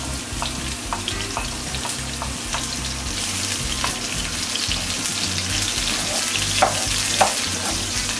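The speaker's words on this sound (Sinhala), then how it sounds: "ඊට පස්සේ අපේ රම්පා කරමින්ච සේර මේ ටික රන්වන් පාට වෙන්න බැද ගන්න කළු වෙන්න දෙන්න එපා" Garlic, onion, pandan and curry leaves frying in oil for a Sri Lankan mutton curry, an even close crackling sizzle with occasional light clinks, no voices.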